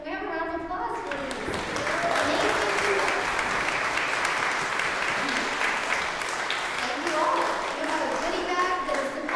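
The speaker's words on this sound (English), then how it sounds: "Can we have a round of applause, please?" A church congregation at a Sunday service breaks into sustained applause, the clapping swelling and holding for several seconds while faint voices and a few tonal sounds drift through at the start and near the end.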